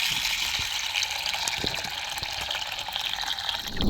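Water pours steadily over sago in a container to soak it, a continuous splashing gush with small bubbling irregularities, fairly close and on its own.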